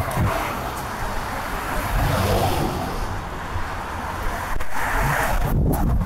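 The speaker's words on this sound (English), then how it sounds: "Cars are going by." Cars passing on a nearby road, a steady broadband wash of tire and engine noise with wind, swelling and easing as vehicles go by, no talking.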